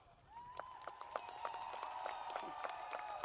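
Graduation audience applause at a 2022 Wichita Falls high school ceremony, heard faint and distant as a crowd wash with a sustained whistle-like tone and scattered sharper claps.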